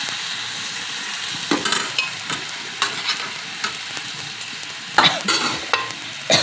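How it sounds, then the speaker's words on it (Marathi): Cooked peas tipped into frying masala and stirred, a loud steady sizzle punctuated by repeated scraping clinks of a spoon against the pan, with no voices. "ते वाटाणे आपण सगळे याच्यामध्ये टाकून घेऊ"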